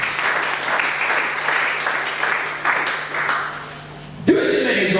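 A church congregation at a Sunday service bursts into sustained applause and clapping that fills the room, with some cheering voices mixed in, before it cuts off abruptly into a loud reverberant sound.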